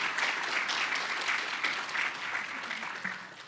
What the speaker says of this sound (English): Jose, if you can rise and receive applause.